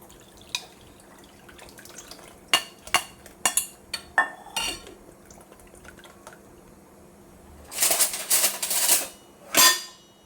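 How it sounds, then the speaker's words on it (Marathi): Tamarind water drips and trickles through a metal strainer, with clinks of a spoon against the utensil and a louder pouring splash near the end. "आता हे चिंचेचं पाणी आपण गाळणीतून गाळून घेऊया."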